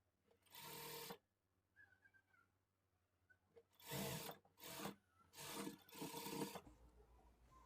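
A sewing machine stitches a lining blouse in loud, steady whirring runs, one short burst and then several longer ones separated by quiet pauses.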